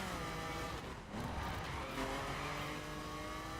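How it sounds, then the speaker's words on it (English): Sustained engine roar and tire skid from a car drifting in The Crew, steady and loud for several seconds with whining engine tones. "Turn in, bit of a drift."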